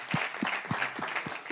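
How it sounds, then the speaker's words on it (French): An audience breaks into applause, a short burst of several sharp claps in quick, even succession. "Bon, applaudissements."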